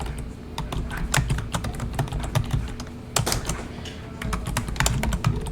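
Keys clatter on a computer keyboard while an envelope address is entered in Microsoft Word, a steady stream of close, crisp taps with a few louder strokes and brief pauses.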